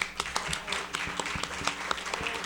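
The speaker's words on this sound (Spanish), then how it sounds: "Le damos un aplauso, por favor." An audience at an architecture lecture applauding the speaker, a dense steady burst of clapping from many hands with sharper individual claps standing out, lasting a few seconds.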